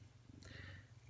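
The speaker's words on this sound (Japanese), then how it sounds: "ずっとゴロゴロ言ってんねん。" A cat being held purrs softly in a brief, quiet rumble, with a light breathy rasp rising in the middle.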